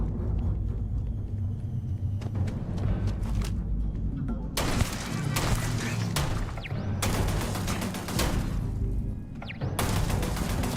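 Turret guns in the video game Starfield fire repeated bursts over a heavy, steady rumble. The shots are loud and cluster into dense volleys through the second half.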